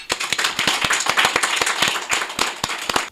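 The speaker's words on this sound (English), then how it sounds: "Would you give him a round of applause?" Audience clapping for a guest educator at a live interview show, a lively round of sharp individual claps with a few loud standalone smacks, close and fairly loud, with no talking over it.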